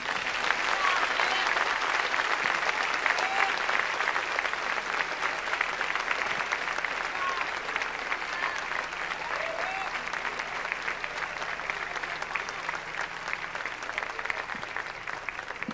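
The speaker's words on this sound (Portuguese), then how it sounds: "aplaudindo e glorificando o nome de Jesus" A congregation applauds a visiting preacher at an evening church service. The clapping stays loud, dense and sustained from a large crowd for the whole stretch, with some faint voices mixed in.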